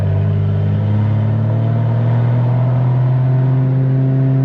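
A BMW 335i with all-wheel drive and an automatic gearbox pulls away, its engine a loud, steady rumble that builds smoothly as the car moves off.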